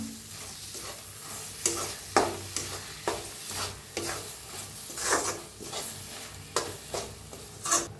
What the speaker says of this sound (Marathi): आताच टाकूया आपण खोबरं किसून घेतलेलं छान असं मिक्स करूया